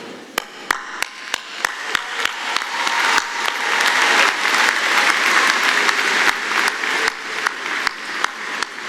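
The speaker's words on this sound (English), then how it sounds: "we will join your family and friends in applauding you" A commencement audience applauds graduates at a university ceremony, sustained dense clapping that swells in the middle, with sharp individual claps standing out near and far.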